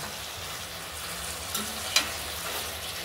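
Curry ingredients for a potato, pointed gourd and prawn dish fry in a pan with a soft, even sizzle, broken by a couple of faint utensil clinks.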